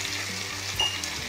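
Chilli paneer frying in a pan with red chilli, tomato and soy sauces, a steady sizzle with one brief louder clink partway through, no voices.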